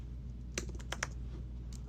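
Typing on a computer keyboard in short, uneven bursts of quiet key clicks over a low steady background hum.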